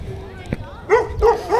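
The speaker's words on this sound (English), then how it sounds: "Man, that's a big dog." A big dog gives a couple of short, deep woofs close by outdoors, following a brief knock amid low background noise.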